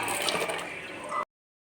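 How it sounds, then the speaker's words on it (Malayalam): Water pours into a pot of sambar with cooked dal and vegetable pieces, a splashing, gurgling stream for about a second before stopping abruptly into silence. "കുറച്ച് വെള്ളം ഒഴിച്ച് കൊടുക്കാം"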